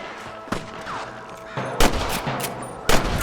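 Gunfire in the Western video game Red Dead Redemption: loud, sharp shots crack out at about half a second, then a dense burst near 1.8 seconds and another near 2.9 seconds over a steady rumbling background.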